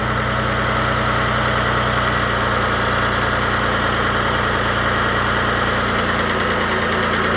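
A car engine idling after a cold start with a tick, a loud, close, steady mechanical drone with a fast, even ticking running through it.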